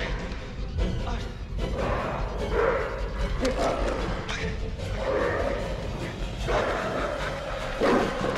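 Dog barking in the horror game Until Dawn, with repeated loud yaps and thuds over a constant low rumble as a player talks throughout.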